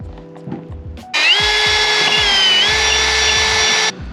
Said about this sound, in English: So I got my 3/16 drill bit here, which is 5mm